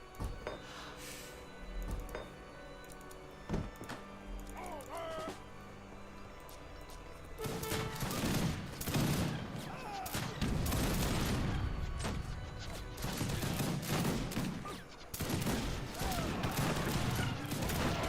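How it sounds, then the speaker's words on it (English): Rapid gunfire from a visual novel game, a quieter stretch giving way to a dense, loud run of overlapping shots and crashing impacts that continues steadily to the end. "They're just shooting in pretty fast."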